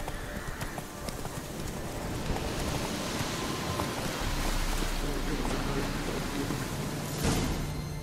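Horse hooves clip-clop steadily in The Witcher 3: The Wild Hunt, set against a constant rain-like wash, with a faint voice briefly heard.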